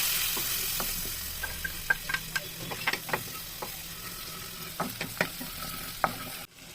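Garlic and chili flakes fry in melted butter in a pan, a soft steady sizzle under scattered light clicks and taps of a spoon stirring, close and fairly quiet, with no voices.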